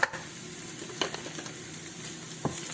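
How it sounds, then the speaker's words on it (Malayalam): Ginger, then garlic, frying in hot oil in a pan makes a faint, steady sizzle broken by a few utensil taps and stirring scrapes. "എണ്ണ ചൂടായി വരുന്നുണ്ട്. അതിലോട്ട് ഞാൻ ഇഞ്ചി ഇടുകയാണ്."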